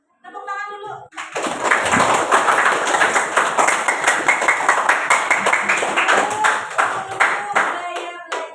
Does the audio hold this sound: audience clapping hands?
yes